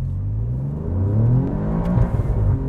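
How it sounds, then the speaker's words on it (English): A 2020 Alfa Romeo Giulia Quadrifoglio sport sedan launches from a standstill and pulls hard, its engine note climbing in a rising, rumbling surge that grows louder toward the end, heard close with no talk. "Okay, it didn't really squeal off the line or anything. It pretty much just gripped right away."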